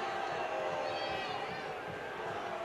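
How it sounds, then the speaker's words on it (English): A stadium crowd at a USL playoff soccer match between Sacramento Republic FC and Swope Park Rangers boos steadily, a dense roar of many voices filling the stands, with a commentator talking over it. "the crowd starting to boo"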